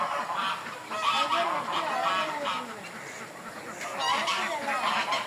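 Guineafowl calling and flying in Shah Alam, Malaysia, a flock of harsh, repeated cackling calls overlapping continuously at moderate distance, with faint talk in the background.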